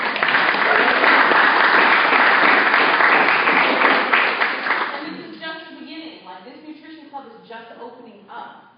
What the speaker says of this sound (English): Style, clap it up for him